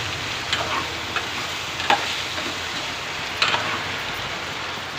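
Turmeric is stirred into a simmering curry in a pan, producing a continuous soft sizzle with a few light scrapes and taps of the spoon, and no one speaking.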